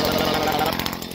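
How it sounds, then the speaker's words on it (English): A leaf blower runs outdoors, its engine roaring steadily and loudly close to the listener throughout, with someone talking over the noise. "Got that leaf blower."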